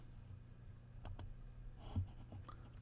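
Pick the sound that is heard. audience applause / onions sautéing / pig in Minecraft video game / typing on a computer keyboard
typing on a computer keyboard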